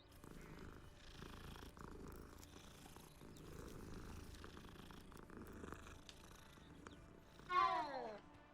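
A cat in the Hogwarts Legacy video game purrs steadily while being petted, a soft continuous rumble that ends with a short, louder meow.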